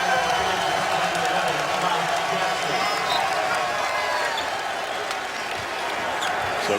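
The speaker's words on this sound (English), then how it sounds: "They're cheering out there." Arena crowd noise at a 2017 Kansas Jayhawks versus West Virginia Mountaineers college basketball game, a dense steady roar of cheering with scattered claps and ball bounces, loud and continuous throughout.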